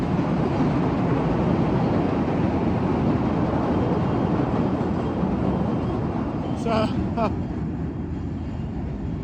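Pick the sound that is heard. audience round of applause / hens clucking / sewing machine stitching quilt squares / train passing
train passing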